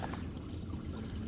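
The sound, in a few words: water falling beneath a small dam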